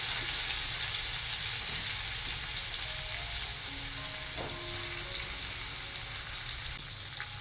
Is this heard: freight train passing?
no